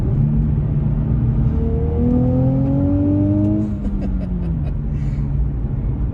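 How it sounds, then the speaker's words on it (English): Turbocharged 2023 Nissan Z with manual transmission, heard from inside as the engine revs up in a rising droning pitch, then eases off under a steady loud road rumble. "the engine really puts off a good sound"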